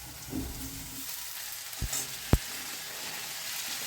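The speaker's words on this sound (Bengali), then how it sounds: "এবার এতে আমি পুরো এই শিমগুলো দিয়ে দিচ্ছি" Winged beans tipped into a pan of potatoes that were fried until lightly browned, giving a steady, even sizzle with a couple of brief knocks as they are stirred.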